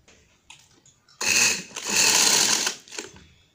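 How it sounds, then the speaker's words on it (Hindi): Sewing machine stitching around the edges of a kurti front held with pins, a loud steady whirring run that starts abruptly, pauses briefly, continues, then fades into a short final burst. "अब मैं यूँ इस तरह चारों तरफ सिलाई चलाती हुई आ जाऊंगी।"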